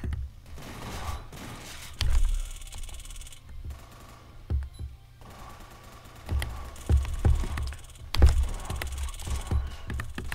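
Bursts of gunfire ring out in a prison-themed video game, scattered shots and short rapid volleys spread across the stretch, loud against a quieter background with faint rustling between bursts.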